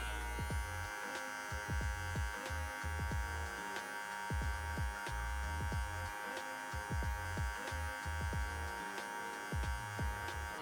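An electric hair clipper fitted with a number 1 guard buzzes steadily while cutting hair for a low taper, with a constant mains-like hum and regular soft strokes through the hair, close and alone.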